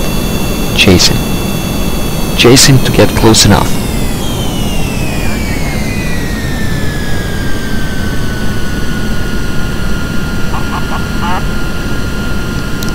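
Airplane engines in Kerbal Space Program hum and drone steadily as aircraft chase each other, with a falling engine tone midway and a voice talking over it at times.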